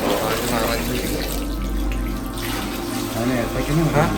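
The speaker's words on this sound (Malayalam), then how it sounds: "മലയിന്ന് വെള്ളം ഇറങ്ങി വന്ന് ഇവിടെ ടാങ്കിലേക്ക് വന്ന് വീഴുന്നു" Mountain water falling steadily into a tank at Edakkal Cave in Wayanad, Kerala, a continuous rushing splash that fills the whole clip, with people talking over it.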